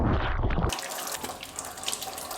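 Potatoes for French fries washed under a running kitchen tap: a short burst of water hitting them, then a steady, close splashing stream filling the sink, with no talk.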